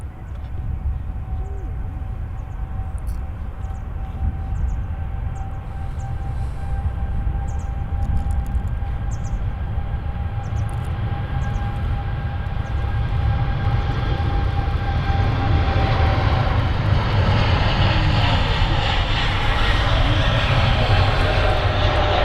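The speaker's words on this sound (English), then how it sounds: "What a fantastic view there of the Qatar Dreamliner departing." Qatar Boeing 787 Dreamliner taking off from Manchester Airport, a steady engine whine and deep rumble swelling louder into a strong broadband roar as the jet rolls and climbs, with faint clicks early on.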